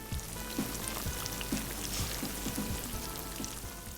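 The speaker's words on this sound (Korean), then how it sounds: "다음으로 밑간이 된 등갈비에 전분가루를 묻힌 뒤 튀김류에 바삭하게 튀겨주세요." Starch-coated pork back ribs deep-frying in hot oil, a soft, continuous sizzle and bubbling with faint crackles, fairly quiet and steady.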